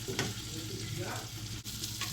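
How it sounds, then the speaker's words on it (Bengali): Ginger and garlic fry in a little oil, giving a steady dense sizzle with a few brief stirring scrapes. "আদা রসুনটা একটু হালকা তেলে ভাজি দিবেন"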